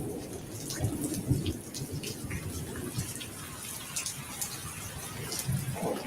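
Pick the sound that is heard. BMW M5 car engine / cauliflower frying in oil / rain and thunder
rain and thunder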